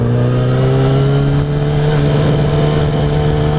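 A Yamaha R1 sport motorcycle engine pulls hard during a ride, a loud close drone that climbs steadily in pitch as it accelerates in first gear, with no talk over it.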